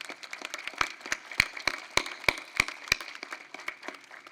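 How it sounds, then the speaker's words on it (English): Applause from the audience at an outdoor Veterans Day ceremony in Arlington, heard as sparse, separate claps with a steady patter of scattered hand claps beneath them, moderately loud and not accompanied by talk. "So please give Sherry a round of applause."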